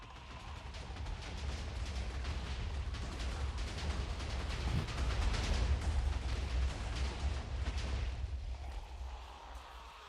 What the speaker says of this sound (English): Moments later, we hear explosions coming from the distance.